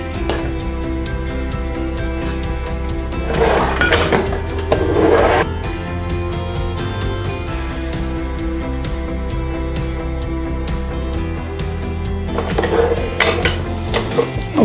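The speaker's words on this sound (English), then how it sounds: "we're gonna add flour, just a couple of spoons at a time" A spoon clinks against a mixing bowl in two short bursts of scraping and tapping as flour is added a spoonful at a time for shortbread cookies, over a steady low background hum.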